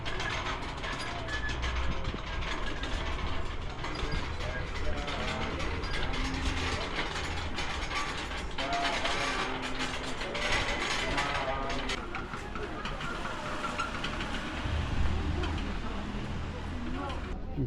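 Prayer wheels turning along a busy market street in Leh, Ladakh, giving a steady clattering, ratcheting rattle over a dense bustle of crowd noise and voices throughout.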